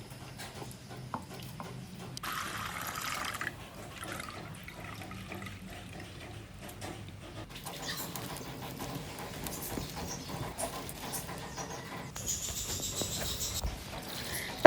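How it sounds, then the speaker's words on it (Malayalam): Rice is washed and strained in water, giving quiet, intermittent sloshing and trickling close by, with soft clinks and no speech. "അപ്പോൾ ഞാനൊന്ന് അരിച്ചെടുക്കുന്നുണ്ട്. ചിലപ്പം പിന്നെ ഇതിൽ കല്ലൊക്കെ ഉണ്ടാകാൻ ചാൻസ് ഉണ്ട്."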